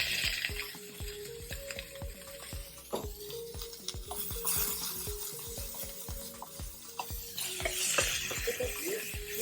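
Blanched mushrooms sizzle in a pan while a utensil scrapes and taps against it in frequent, uneven stirring strokes, close by with no talk.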